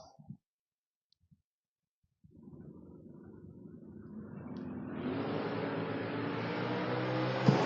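A Willys and a Camaro drag racing at a race track, silent at first, then engines roaring up from a distance and building steadily louder to a loud, sustained roar.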